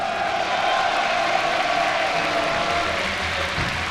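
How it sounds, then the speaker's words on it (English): A crowd at IEM Katowice, a StarCraft II esports event, applauds and cheers in a steady, dense wash of clapping that holds evenly for a few seconds. "give yourself a round of applause"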